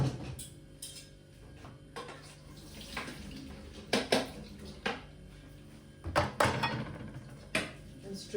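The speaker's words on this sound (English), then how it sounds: "Straining the water off." Hot water being poured and strained off cooked vermicelli in a kitchen, splashing and rushing in uneven bursts with a few louder surges and faint clinks of pans.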